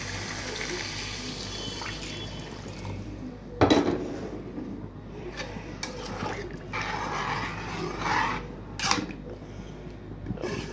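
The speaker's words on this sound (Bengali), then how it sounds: "কিছুটা জলের পানি দিয়ে দিলাম" Water poured into a cooking pan of fish and stem curry, a soft trickle and splash over steady kitchen background hiss, with a few metallic clinks of utensils against the pan.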